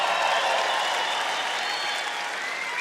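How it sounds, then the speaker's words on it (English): A comedy-club audience at a stand-up show breaks into steady, dense applause that fills the room at full volume, then tapers only slightly, with no voice over it. "Thank you for those of you applauding that."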